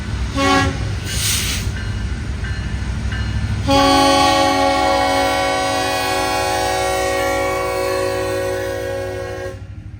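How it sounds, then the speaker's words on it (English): An empty BNSF coal drag freight train heading north toward Wichita Falls and Amarillo on the Trinity Railway Express line rolls by loudly and steadily, its horn sounding short toots and then one long sustained blast over the rumbling wheels. "Hauling northward towards Wichita Falls and Amarillo a short while later is this empty BNSF coal drag."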